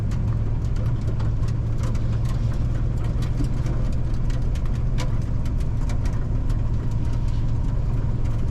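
An old RV with its engine doghouse cover in place, rumbling with a low, steady drone while driving, heard evenly from inside the cab with no talk.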